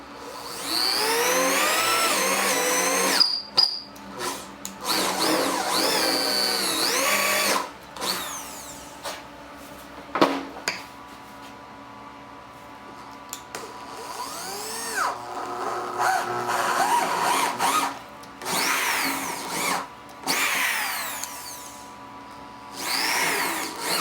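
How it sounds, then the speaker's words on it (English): A drill bores with a 1/2 inch brad point bit in repeated whining bursts that spin up and stop, with short pauses between passes, close and clear with no voices. "here we have a 1/2 inch brad point bit"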